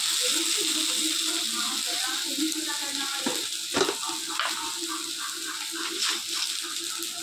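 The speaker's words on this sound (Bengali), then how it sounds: "এটা একটু ভালো করে নাড়তে হবে যতক্ষণ না জলটা না মরে" Pointed gourd (potol) with salt fries in a pan and is stirred, giving a continuous sizzle with occasional scraping clacks while a voice talks over it.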